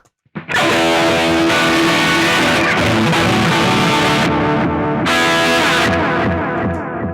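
Electric guitar played through a Yamaha THR amp with an echo preset, sustained distorted chords ringing with repeating delay tails, loud and continuous for several seconds, no talking.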